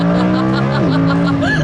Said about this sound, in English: Last lap, yellow Lamborghini, last lap.